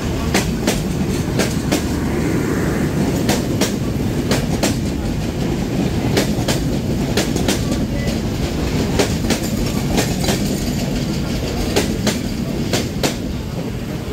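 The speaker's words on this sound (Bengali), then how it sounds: "আমাদের সাথে ডাবল লাইন ক্রসিং হয়ে গেল খুলনার থেকে ছেড়ে আসা রাজশাহীগামী কপোতাক্ষ এক্সপ্রেসের সাথে" The Kopotaksha Express, a Rajshahi-bound train from Khulna with PT Inka coaches, passes on a double line in rain, a loud steady rumble with rapid repeated wheel clacks throughout, heard close from a neighbouring train.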